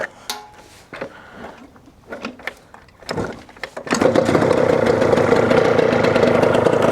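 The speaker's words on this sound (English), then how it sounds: "Let's see if it starts." A Yamaha TZR 250 3XV two-stroke motorcycle with 31,000 km is kicked several times, then fires up on the choke and settles into a loud, steady, buzzing idle close by.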